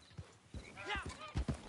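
Horse hooves clip-clopping in the video game Red Dead Online, a few quick hoofbeats and a snort heard close under a voice.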